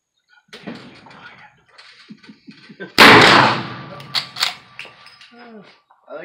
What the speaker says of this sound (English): I like firing that Winchester